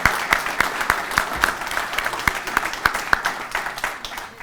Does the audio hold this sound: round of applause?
yes